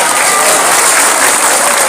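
Loud, dense crowd applause from a large religious dhikr gathering fills a short burst, a steady wash of many hands clapping close and strong.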